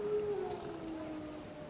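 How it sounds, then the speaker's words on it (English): Wild dogs howl in the video game The Witcher 3, a long, drawn-out wavering cry that slowly falls in pitch, distant and fairly faint over a low ambient background with no speech. "Wolves? No. Wild dogs. Yes. More dangerous than wolves."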